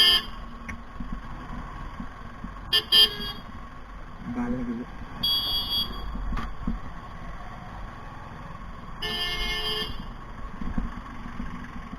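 Busy Indian street traffic in Rajgarh rumbles steadily under a moving vehicle, with several short car horn toots at intervals and a voice talking over the noise.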